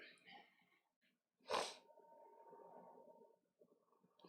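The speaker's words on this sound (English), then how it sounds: "Deal with me blowing my nose." One forceful, wet nose blow, loud and close, surrounded by quieter breathy, snuffly sounds.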